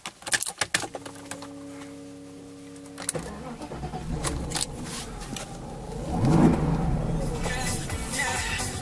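A 1995 Mercedes-Benz S500 W140 sedan started with a switchblade key: a few key and switch clicks and a brief chime tone, then the starter cranks and the engine catches and settles into a steady, close idle.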